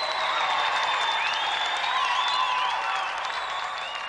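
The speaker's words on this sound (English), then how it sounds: "Another round of applause for our gallant competitor" A crowd applauding steadily and loudly throughout, a dense wash of clapping with faint higher whistle-like tones drifting over it.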